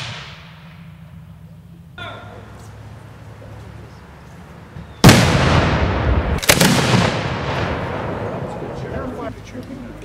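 A ceremonial gun salute volley at a tribute honoring Benjamin Tallmadge on July 4, fired on command: two loud, sharp reports close together, with a faint voice and outdoor ambience before and after.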